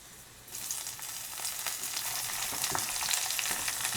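Onions hit hot oil in a pan for cauliflower pulao, the hiss jumping up suddenly and then settling into a steady, close sizzle with light stirring scrapes and no voices.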